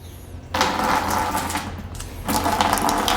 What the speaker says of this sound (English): So here's your air. Hear that?